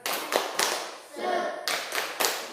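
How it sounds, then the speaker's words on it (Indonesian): A primary school class performs the 'tepuk semangat' clapping routine, sharp bursts of hand claps in a patterned rhythm with short pauses between groups, close and lively, with children's voices chanting along. "kita tepuk semangat dulu"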